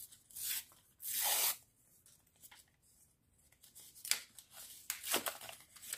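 Paper surprise packets are torn open in a few sharp, crisp rips, with lighter rustling and crinkling between them, close and fairly loud, with no talking.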